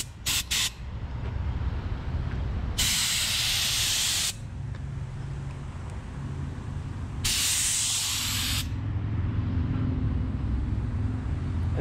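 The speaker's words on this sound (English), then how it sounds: "I'm going to go ahead and pour it into the gun and try to lay a really thin coat." Spray gun laying a thin automotive clear coat over a Rustoleum paint job, two loud hissing bursts of about one and a half seconds each, separated by a quieter stretch of low background rumble.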